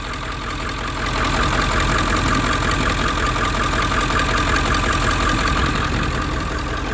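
A loud, near car engine with a stock intake and downpipe idles steadily, its knocking rumble swelling slightly after the first second and then holding even.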